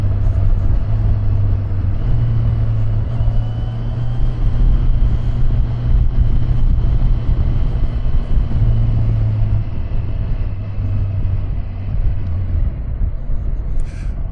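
A Kawasaki Versys 1100 Special Edition motorcycle under way, a continuous low engine drone mixed with dense wind and road rumble, steady and close throughout, with no speech on top.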